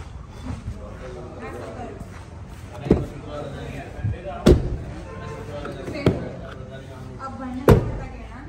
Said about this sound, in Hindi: सारे के सारे दरवाजे आपको खोल के देखने हैं और फिर उनको बंद करना है।